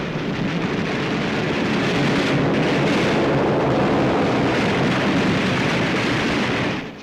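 Anti-aircraft flak fire from a WWII warship's guns at an incoming torpedo bomber, a dense, continuous roar of overlapping bursts and rumble filling the whole stretch at high loudness.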